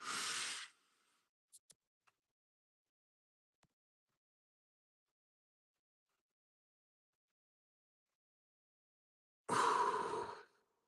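Slow, deliberate breathing exercise, in through the nose and out through the mouth: two soft, close breaths separated by a long stretch of silence, with faint small clicks between them.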